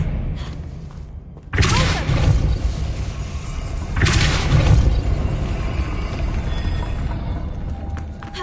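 An Expelliarmus spell effect from a Hogwarts video game, heard as two loud whooshing bursts with heavy low rumble that swell and then fade into a sustained, dense roar.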